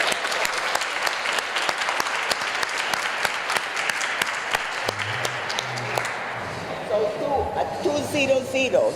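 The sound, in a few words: applause for the organizer Kyle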